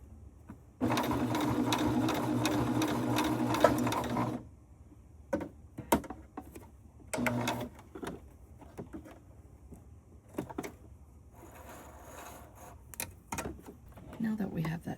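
A sewing machine stitches a rope bowl, running in one loud, steady whirring burst of several seconds. Short stop-start stitching spurts and light handling clatter follow.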